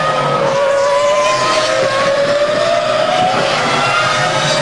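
A BMW-engined Formula 1 car screams past at the 2003 European Grand Prix, its loud high-pitched engine note sliding steadily downward as it goes by, continuous and close with no voices.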